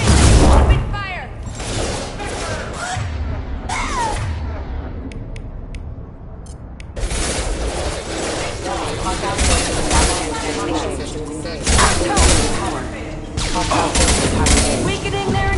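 Sustained gunfire from a firefight in the video game Mass Effect 2: dense, loud bursts of automatic shots and impacts, a quieter lull midway, then renewed heavy volleys, with voices speaking over the combat.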